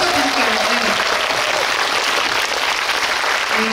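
Loud, dense audience applause filling a cinema after a film screening and talk with the director and actors, continuous and close with a few faint voices mixed in.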